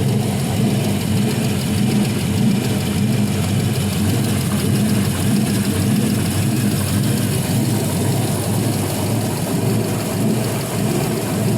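A 5.3L LM7 V8 fitted with an LS1 camshaft runs on an engine test stand, holding a steady, loud idle with a continuous rumble and no voices over it.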